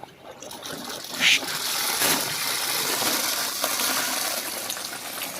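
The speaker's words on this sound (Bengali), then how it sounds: "আমি জলটা খুললাম এরপর দেখুন এই জলটা বেরোবে দিকে" Water released into a fish breeding tank in a clay hatchery pond flows and trickles steadily, with splashing and a few brief clinks over the continuous stream.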